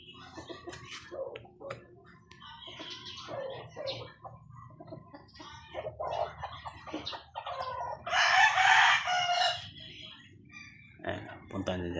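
White Leghorn hen clucking after laying an egg, with loud repeated squawking clucks and nearby rooster calls, peaking in a loud burst of cackling near the end, while people talk in the background.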